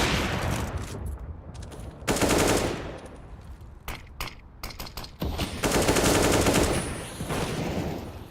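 Gunfire in a competitive Counter-Strike match: several loud bursts of automatic fire and single sharp shots, near and far, spread across the clip with brief quiet gaps and no voices.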